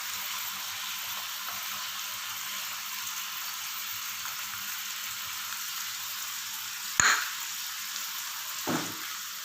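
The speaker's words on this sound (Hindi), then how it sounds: "अब हम इसको 2 मिनट और फ्राई करते हैं।" Chicken frying in a pan with black pepper and salt, a steady faint sizzle throughout, broken by one sharp knock and a softer clatter near the end.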